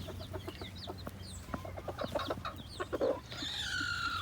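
A rooster shuffles about a nest box beside a hen while chickens cluck repeatedly nearby in short, uneven calls, with a brighter squawk near the end.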